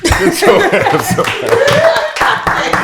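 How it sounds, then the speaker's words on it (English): Studio audience clapping at a talk show discussing the migrant crisis, a brief burst of hand claps mixed with chuckles and laughter, with voices talking over it. "clap it up"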